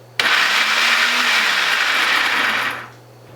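A kitchen blender grinds a tomato and onion mixture, starting abruptly and running as a loud, steady whirring roar for under three seconds before winding down.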